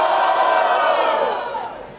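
A crowd at a street rap battle roars and cheers loudly in a burst of shouting, the noise swelling then fading away over about two seconds.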